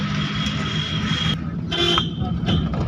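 A sustained car horn blares steadily for over a second, then sounds again in shorter honks amid low engine rumble.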